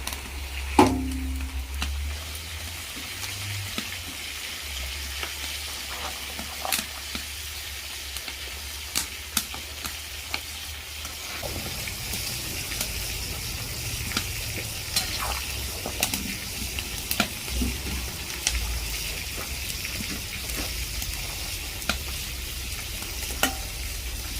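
Lamb sizzles steadily in a hot pan with crackling pops and occasional scraping stirs, the frying growing louder partway through.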